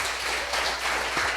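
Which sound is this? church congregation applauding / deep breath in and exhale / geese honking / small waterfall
church congregation applauding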